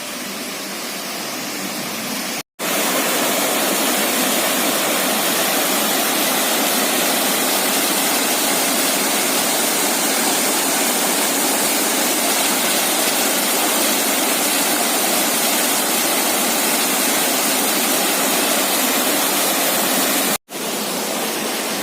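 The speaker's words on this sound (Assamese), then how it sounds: "সুন্দৰ এটা জলপ্ৰপাত একদম পাহাৰৰ ওপৰৰ পৰা বৈ আহিছে." A waterfall pours down a hillside at Shivakunda near the Amsoi tea estate, giving a loud, steady, broadband roar with two brief cuts.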